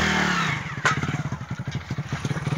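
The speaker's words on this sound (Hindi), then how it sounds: "थोड़ा बाइक स्टार्ट होने में दिक्कत रहा है।" A motorcycle on a farm with a potato field is being kicked over and struggles to catch, its engine settling into a rapid, uneven putter of close, steady pulses with no talk.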